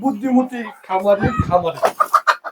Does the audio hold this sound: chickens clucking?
yes